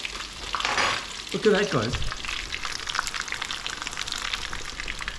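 A chicken parmo, a breaded chicken cutlet, fries in a pan with a steady close sizzle that continues throughout, while a voice briefly speaks over the crackling near the start.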